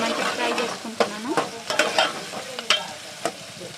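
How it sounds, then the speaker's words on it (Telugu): Ground ginger-garlic paste frying in a pan for a country chicken curry, a steady hiss and sizzle broken by a few sharp scraping stirs, close and moderately loud, with no voices. "ఫ్రై అయిన తర్వాత అల్లం వెల్లుల్లి నూరుకున్నది మంచిగా ఫ్రై చేసుకుంటున్నాను"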